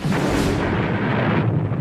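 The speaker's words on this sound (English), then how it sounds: "Loudspeakers play sounds of gunfire and explosions to create a more realistic combat environment" Dense, continuous rumble of booming blasts and rapid gunfire played over loudspeakers in a Marine combat training setting, loud and unbroken throughout, with a washed-out, amplified quality.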